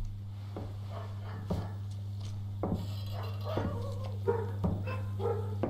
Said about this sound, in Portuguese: Que cachorro tá latindo?